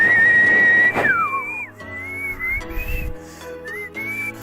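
The Mega Whistle speaker system whistles loudly in the TreeMorph Dorks game: a long steady tone, then a sliding drop and several shorter rising and falling whistles over a low background hum, with no talking.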